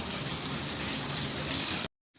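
A kitchen tap runs cold water over cooked noodles, a steady close gush that stops abruptly near the end.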